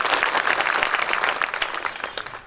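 A crowd at a public gathering in Ujjain applauds for a woman being welcomed, a brief burst of dense clapping that holds steady and then tapers slightly.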